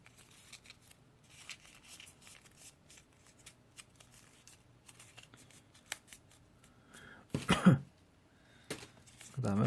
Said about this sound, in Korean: 그리고 반접기.